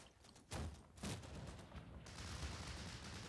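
Artillery shells pound a tank position in Combat Mission, a distant volley of booming impacts followed by a steady, rumbling barrage of fire that lingers as a dense roar.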